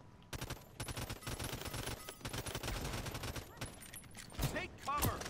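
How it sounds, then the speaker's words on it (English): Rapid bursts of gunfire from the online shooter Realm Royale fill several seconds with fast repeated shots and a few heavier blasts near the end, while players talk over the action. "What gun was that? It was like 3 shots and I was dead."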